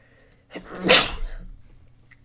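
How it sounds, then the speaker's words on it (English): A single sharp, loud sneeze bursts out close by, followed by a short trailing exhale in an otherwise quiet room. "That was a bad sneeze."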